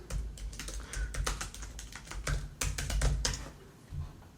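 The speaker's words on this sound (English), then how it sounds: "That's me typing." Someone types on a computer keyboard nearby in quick, uneven bursts of clicking keys, with short pauses between runs of keystrokes.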